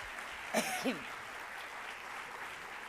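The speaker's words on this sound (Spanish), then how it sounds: "Aplauso, aplauso." Audience at an energy awards night in Vigo applauds in a steady wash of clapping, with a brief voiced exclamation or laugh near the start.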